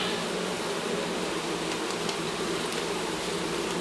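A dense, steady hum of honeybees buzzing from a colony being removed from inside a neighbor's wall, droning continuously at close range with no talk.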